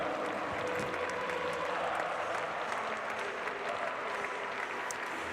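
A crowd applauds steadily for riders at the Saut Hermès 2019 show jumping event in Paris, Prix de la ville de Paris class: a dense, even wash of clapping that holds for the whole stretch, slightly distant.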